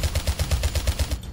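Rapid automatic gunfire in the video game Ravenfield, a quick, even burst of about a dozen punchy shots over roughly a second, moderately loud.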